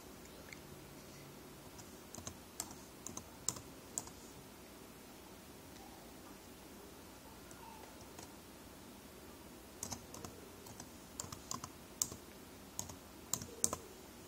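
Computer keyboard typing a password, scattered soft key clicks in short clusters, close but faint, with no talking.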